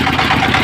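Boat engine running slowly on the Jamuna river near the Jamuna rail bridge, a loud close low-pitched steady hum with a slight vibrating throb, brief and without talk.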